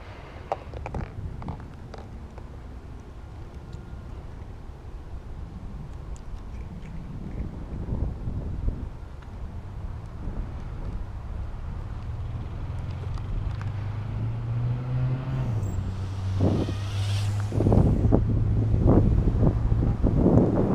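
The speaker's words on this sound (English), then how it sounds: "the wind is catching up, getting crazy" Strong wind buffets the microphone in low rumbling gusts outdoors, joined by the rising motor whine of an MDX80 small brushless quadcopter and scattered knocks, growing stronger toward the end.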